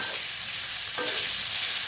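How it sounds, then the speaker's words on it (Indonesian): Beef for Bugis-Makassar gore-gore sizzles steadily in about two tablespoons of oil in a pan, a loud continuous frying hiss with a brief stirring scrape partway through and no voices. "Tambahkan minyak sekitar 2 sendok makan supaya dia tidak hangus. Kemudian kita oseng-oseng kembali"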